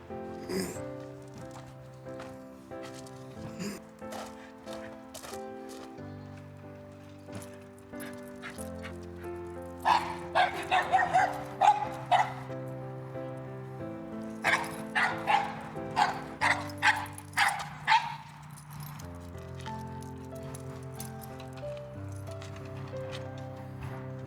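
A dog out on a street during a training walk, with another dog nearby, lets out bursts of sharp, yipping barks in quick runs. The barks are fairly close and sit over steady background music.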